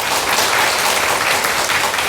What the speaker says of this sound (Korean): 우리 한번 격려 박수 한번 쳐주세요